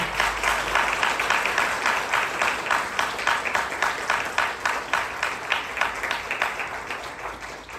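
A conference audience gives loud, continuous applause, many hands clapping in a dense, slightly rhythmic roar that holds steady and eases off only near the end.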